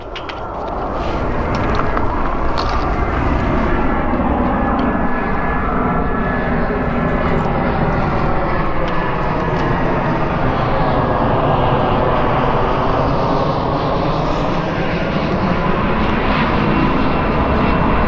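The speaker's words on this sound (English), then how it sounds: "Plane's coming" A fixed-wing airplane passes overhead in Phoenix, its engine roar rising quickly and then holding loud and steady as a broad, continuous rumble for the whole stretch, with no voices.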